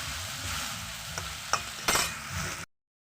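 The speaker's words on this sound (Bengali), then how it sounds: "মাংসটা আমরা এইরকম উল্টিয়ে পাল্টিয়ে ভেজে নেব সুন্দর করে" Meat sizzles steadily in a hot pan while a utensil stirs and turns it, with a few sharp scrapes and clinks against the pan before the sound cuts off abruptly.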